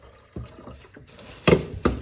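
Water being poured to make coffee, a few short close splashy pours and drips over about two seconds, with no talking.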